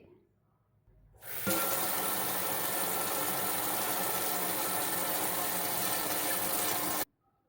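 Water rushing steadily into a pot being readied for boiling to steam puto cheese, a loud continuous hiss that starts abruptly after a quiet moment and cuts off sharply near the end.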